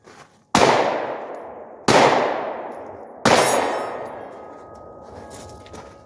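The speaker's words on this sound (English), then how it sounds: "Let's try shooting this one-handed." Three loud, sharp reports from a Glock 22 .40 caliber pistol fired one-handed, each a ringing crack that decays over about a second, spaced unevenly and heard alone.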